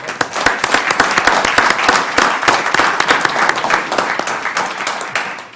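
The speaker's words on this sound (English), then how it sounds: "So just a round of applause for..." An audience breaks into a sustained round of applause at a live-streamed meeting, many hands clapping loudly and densely for several seconds, fading slightly toward the end.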